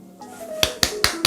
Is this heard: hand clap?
yes